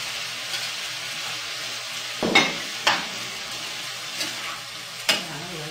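Bell pepper stir-fried with chewy rice cake in a pan, a steady soft sizzle broken by several sharp clattering stirs and scrapes spaced a second or so apart, close by with no talking.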